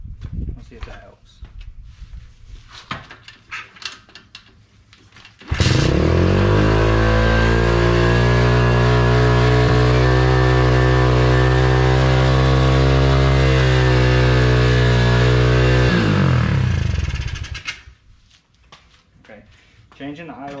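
An Apollo Z20 pit bike engine starts up and runs loud and close at a steady high idle for about twelve seconds, then cuts off, with brief talk and shuffling before and after.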